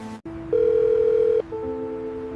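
A telephone ringback tone on an unanswered call: a steady electronic tone that rises to a louder sustained pitch for about a second, then drops back to a softer continuing tone, heard alone.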